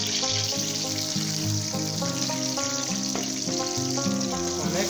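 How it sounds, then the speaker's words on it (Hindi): Chopped onions fry in hot ghee in a pan, a steady soft sizzle running continuously beneath louder background music. "अभी हम इसको घी को गर्म कर लेते हैं। इसके साथ ही ऐड कर देंगे प्याज।"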